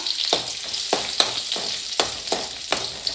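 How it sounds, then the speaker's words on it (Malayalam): Garlic is dropped into hot oil and stirred, a close, crisp sizzle broken by regular scraping stirs roughly every half second, with no voices. "ആദ്യം ഞാൻ എണ്ണയിലേക്ക് വെളുത്തുള്ളിയാണ് കേട്ടോ ഇട്ട് കൊടുക്കാൻ വേണ്ടി പോകുന്നത്"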